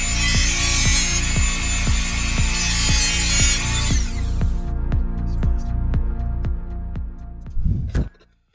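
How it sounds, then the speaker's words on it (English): A Dremel rotary tool cuts with a bright, close whine for about four seconds, then winds down into a steady run of rhythmic ticks before a short rattle at the end. "I love the Dremel. It's such an awesome tool."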